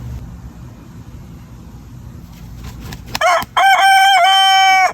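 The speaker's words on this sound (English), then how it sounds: "I feel like you got a crow coming." A rooster crows loudly and close by in a garden, a full drawn-out call rising after quieter background sounds.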